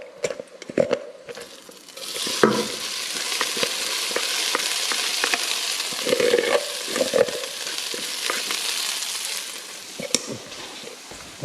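Egg fried rice is stir-fried in a pan: a loud continuous sizzle punctuated by repeated scraping and clacking of the utensil against the pan, with sharp knocks scattered throughout.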